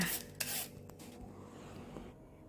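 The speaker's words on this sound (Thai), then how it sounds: "ใส่แครอทด้วย ใช้ที่ขูดมะละกอขูดให้เป็นเส้น" Carrot being shredded on a papaya grater in a kitchen, a few close rasping scrapes at the start that fade into quieter rubbing.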